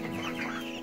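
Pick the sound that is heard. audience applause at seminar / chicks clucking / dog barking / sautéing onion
chicks clucking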